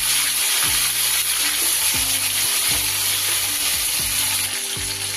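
Crabs fry in hot oil in a pan, giving a loud, steady sizzle with repeated clanks and scrapes from a spoon as they are stirred.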